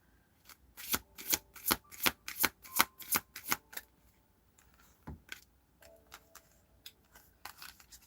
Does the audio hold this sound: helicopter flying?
no